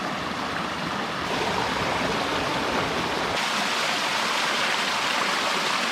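A jungle river in Costa Rica rushes steadily, a continuous broadband roar of flowing water that stays close and loud throughout, with a slight swell in intensity partway through and no voices.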